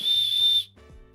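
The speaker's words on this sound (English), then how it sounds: "It's a dragon whistle." A dragon whistle blown once, a close, shrill, steady tone of about half a second that cuts off abruptly into quiet room noise.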